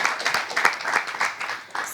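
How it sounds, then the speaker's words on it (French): An audience claps briefly for a message sender during a New Year's Day broadcast, producing a short, uneven burst of applause with rising and falling swells over about two seconds. "On applaudit Ankou."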